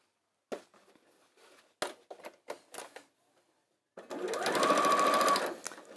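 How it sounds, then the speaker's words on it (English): A sewing machine runs a short steady burst of stitching along a fabric edge, close and clear, after a few quiet clicks and handling taps while making a yo-yo bag. "start sewing right from the edge here and carry on down the side"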